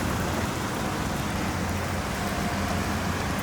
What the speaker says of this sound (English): it started raining very heavily as well